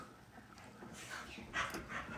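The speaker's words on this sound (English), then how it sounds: "You little dog. You little dumb dog." A small dog whimpering and panting close by, soft breathy pants with a few higher whiny yelps toward the end, quiet and indoors.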